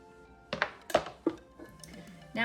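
Diced yellow onion tipped into a pot or mixing bowl for porcupine meatballs, a few soft clinks and thuds spaced out, close and fairly quiet.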